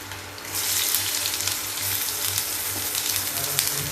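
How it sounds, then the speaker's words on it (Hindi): Onion sizzles in hot oil in a pan along with red chilli, green chilli and garlic, a bright continuous hiss that swells early and holds steady, with a low hum beneath and no talking. "अब प्याज को थोड़ा सा फ्राई करते हैं।"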